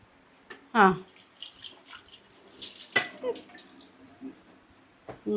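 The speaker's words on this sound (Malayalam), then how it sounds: "തവ കഴുകി." Running water splashes and trickles as a tava griddle pan is rinsed in a kitchen sink, with clinks and handling noises throughout and faint voices in the background.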